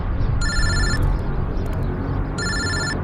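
A phone rings with an incoming call from an unknown number, loud and close, in two electronic trill bursts separated by a pause, over a constant background rumble.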